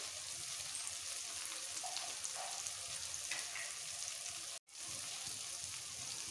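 Ground spices, cumin, coriander and red chilli powder, sizzle steadily in hot oil in a pan for paneer bharta, a constant close crackle with a brief dropout partway through.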